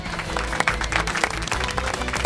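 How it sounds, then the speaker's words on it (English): A game show studio audience applauds departing contestants, a brief burst of dense, steady clapping close by. "let's give them a round of applause"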